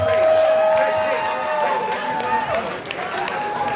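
An audience at an outdoor polka festival claps and cheers in a thick, sustained wash of applause while music lingers underneath, loud and close throughout.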